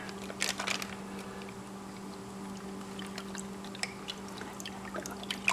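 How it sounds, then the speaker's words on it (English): Water pours and trickles into a mini prototype gold pan in short splashy bursts over a steady low mechanical hum, faint and close. "Put a little more water in there."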